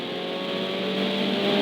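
Ferrari 488 Challenge Evo race car on a track, its engine note steady and rising slightly as it accelerates, heard from inside at a constant loud level.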